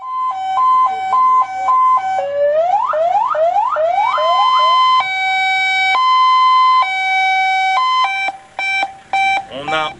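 A recently acquired medical ambulance at a mine sounds its siren loud and close, cycling through warbling tones, rising whoops and steady two-tone wails, then breaking into short bursts.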